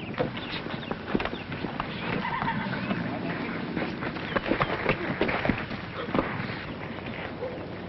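A thoroughbred horse moving about outdoors, with steady rustling, hoof and movement noise, brief snorts and a possible faint whinny, moderately close, running continuously without a break.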